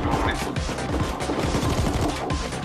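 Dense, continuous rapid gunfire from the video game Payday 2 crackles throughout, loud and busy, like a sustained firefight with overlapping shots.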